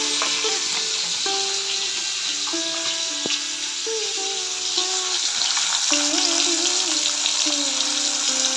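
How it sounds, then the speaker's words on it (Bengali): Fish frying in a pan makes a loud, continuous sizzle that fills the whole stretch, with steady tonal hums running underneath; nothing is spoken. "তো চলো মাছগুলো ভেজে নেই"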